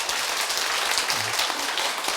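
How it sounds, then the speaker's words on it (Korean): A church congregation applauds during a priest's Bible lecture, a continuous wash of many hands clapping at moderate volume with no pauses. "그 주님께 한번 박수 한번 크게 보내주셔요."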